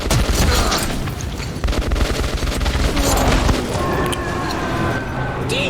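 Dense gunfire in the Metro 2033 Redux video game, with rapid overlapping automatic bursts and booms forming a loud continuous fusillade, a faint voice briefly under the shooting.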